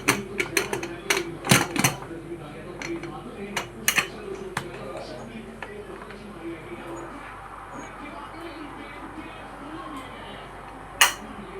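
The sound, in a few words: pressure cooker lid being put on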